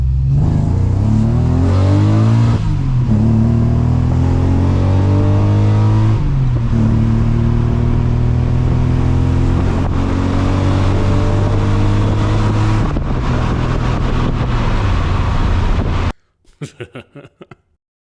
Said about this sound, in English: If that's not a VTEC engagement, then I don't know what is.